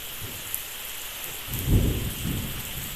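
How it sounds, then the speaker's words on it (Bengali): Rain falls steadily during a storm in Muragachha, Bogula, and a deep, close thunder rumble swells midway through before fading back into the rain's hiss. "দেখেন কিরকম ভাবে মেঘ ডাকছে"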